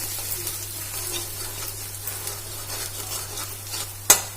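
Spices such as salt, chilli powder, chaat masala, coriander powder and turmeric sizzle steadily in hot oil in a pan while being stirred, a continuous soft crackle with a sharp clatter near the end.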